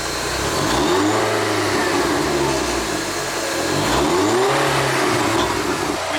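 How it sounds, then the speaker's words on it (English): Engine of a VW Polo 6N2 Quattro revved twice, each blip rising and falling in pitch, loud and close, with a steady rushing mechanical noise underneath between the revs. "Let's give it a few revs."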